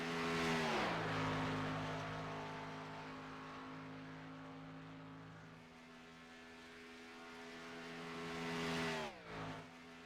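A race car engine in iRacing's single-car qualifying at Daytona International Speedway holds a loud, steady drone, with a pitch drop near the start and another brief dip and recovery near the end as it passes.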